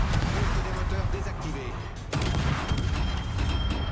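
Warship guns in World of Warships fire armor-piercing shells from a fast torpedo-boat destroyer, a dense, continuous roar of booming salvos and rumble with one sharp report midway, loud and sustained.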